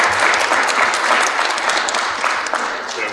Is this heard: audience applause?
yes